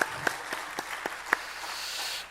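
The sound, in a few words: congregation applause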